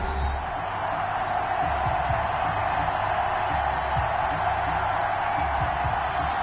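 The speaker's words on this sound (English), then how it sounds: "This crowd is ready as their guys get set to match up" A packed stadium crowd in the Madden football video game, Titans versus Colts, gives off a steady, roaring wash of cheering that holds evenly throughout, with commentary voices faintly under the noise.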